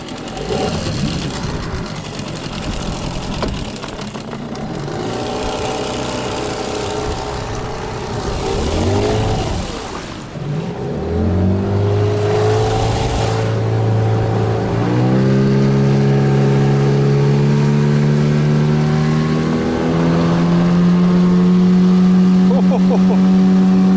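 A small boat's outboard motor starts in neutral and revs up, its engine note climbing and holding steady and loud near a remote taiga river, with people talking over it.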